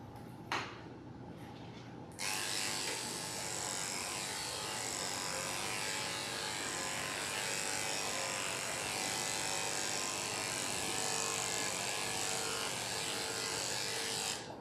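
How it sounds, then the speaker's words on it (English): Electric clippers shaving a dog's body switch on after a couple of brief clicks and handling noises, then buzz loudly and steadily up close for the rest of the stretch. "now we'll finish shaving his body"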